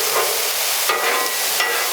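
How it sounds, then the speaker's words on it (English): Onions fry on a Blackstone flattop griddle in a loud, bright, unbroken hiss, with two quick scraping strokes of a spatula moving them around, close up and without speech. "we just want to keep this stuff moving around because we just want it to cook down, get translucent"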